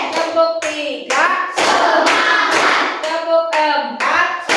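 Classroom group in a peer-teaching lesson doing a counted focus clapping routine, bursts of loud unison hand claps alternating with a teacher's chanted counting, the claps grouped in rhythmic sets.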